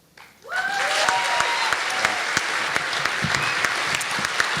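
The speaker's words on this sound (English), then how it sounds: "give her a big round of applause" An audience at a Moth GrandSLAM storytelling event breaks into applause, rising quickly after a brief quiet start into a full, steady roar of clapping with a few whoops.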